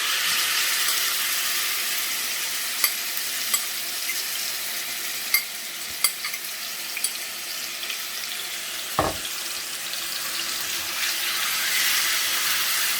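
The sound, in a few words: liver frying in hot oil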